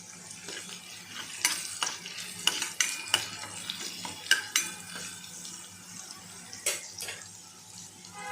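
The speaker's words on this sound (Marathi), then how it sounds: "याच्यामध्ये मी कढीपत्त्याची पाने टाकत आहे" Curry leaves dropped into a pan of sautéed garlic and ginger fry with a constant crackling sizzle, broken by several sharp spatula scrapes and clinks against the pan, close and without talking.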